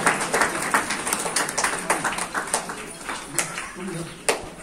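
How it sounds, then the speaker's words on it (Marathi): An audience claps at a Guru Purnima award ceremony in Bhivadi, with steady, moderately loud applause running under a speaking voice. "टाळ्यांच्या गजरात हा सोहळा संपन्न होत आहे"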